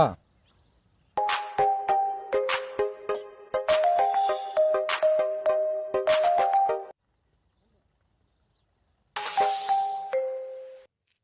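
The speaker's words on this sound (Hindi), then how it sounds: "अरे फोन चक ले यार भूपड़ा" A melodic phone ringtone plays in repeating chiming phrases, stops for a couple of seconds, then starts up again briefly.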